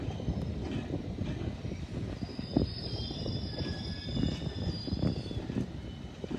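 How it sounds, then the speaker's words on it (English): British Rail Class 455 electric train arriving at Wimbledon station, a continuous rumble of wheels with a high sustained squeal of brakes or wheels, moderately near, without talk. "we have a 455 arriving"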